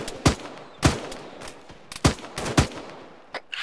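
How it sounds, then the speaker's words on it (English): Hostile gunfire during a military operation, with sharp single shots and short bursts cracking at irregular intervals against a quieter field background, mostly spaced apart and fairly close, with no talking. "they're shooting us"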